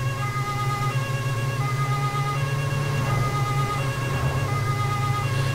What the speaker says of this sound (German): Sirene können wir mal ausmachen.